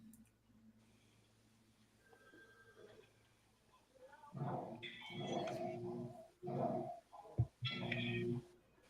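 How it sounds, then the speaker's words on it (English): Dog yelping in pain as a horror film sound effect, quiet ambience first, then a loud run of yelps and whimpers from midway, with a sharp peak near the end. "Sounds like a dog getting hurt."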